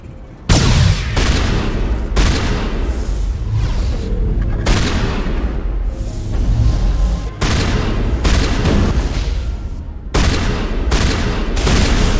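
A grenade in Mass Effect sets off heavy booming blasts, followed by a string of loud, dense explosions and gunfire bursts that come one after another with short gaps.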